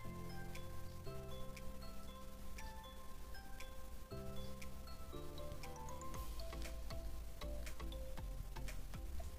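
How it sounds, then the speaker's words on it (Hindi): Chopped kadam (gaderi) vegetable sizzles steadily in a pan while frying, a faint continuous crackle and hiss with background music playing over it and no voices. "अब अच्छे से मिलाएंगे और थोड़ा सा भुनेंगे भी।"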